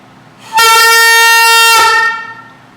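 A saxophone played with too much mouthpiece in the mouth sounds one loud, sustained note for about one and a half seconds, bright and honking like a horn, with no talking.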